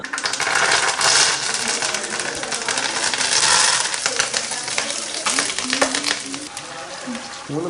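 Oil sizzles and crackles in a hot pan, a loud, steady hiss with scattered pops and clinks up close.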